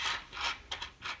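A coin scratches the coating off a Win for Life lottery scratch card in short, close, raspy strokes, four quick rubbing bursts with no speech.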